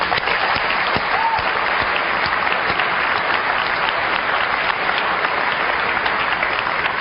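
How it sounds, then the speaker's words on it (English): Dense, sustained applause from a large audience in honor of Microsoft, a steady roar of clapping hands with no pauses, loud and even from start to finish. "I would just like to give them a round of applause"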